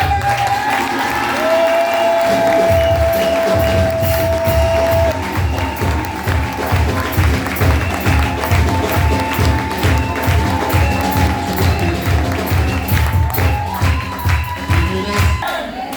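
A church congregation applauds and cheers in acclamation of the Lord, a dense, loud, continuous wash of clapping and voices with a steady rhythmic low beat beneath, sustained throughout.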